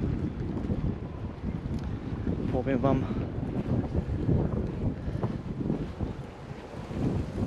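Strong wind roars and buffets the microphone outdoors beside the water, a constant heavy rumble throughout, with someone speaking briefly in Polish partway through.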